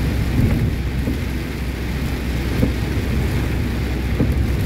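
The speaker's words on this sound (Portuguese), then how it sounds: "A chuva tá cerrada mesmo, gente, tá forte." Heavy rain pounds on a truck during a storm, a dense continuous roar with low rumbles of thunder rolling underneath, loud and unbroken throughout.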